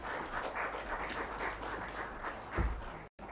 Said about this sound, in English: May we please have another round of applause?